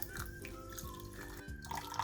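Cold water streams into a saucepan holding 300 g of sugar for syrup, a steady trickling and splashing lasting about two seconds over a dense background din.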